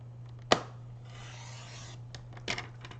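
A paper trimmer cutting a strip off a paper craft piece, a quick sharp rasping slice followed by a softer sliding rub and a second brief scrape, close and quiet over a low steady hum.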